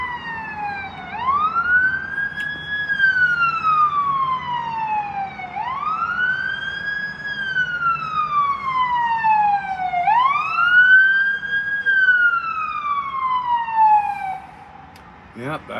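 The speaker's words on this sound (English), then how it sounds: "here comes fire engine number 2" A fire engine ladder truck's wailing siren sweeps up and down in three long cycles as it passes a balcony garden, loud and steady, fading slightly at the end, with a voice briefly audible.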